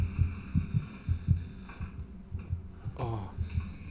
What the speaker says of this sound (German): Dieser Herzschlag, kommt der von mir?